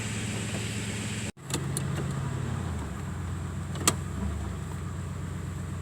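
Oldsmobile with a 307 V8 engine idling at the start of a test drive, a steady low engine rumble with a brief cut-out early on and a sharp click later.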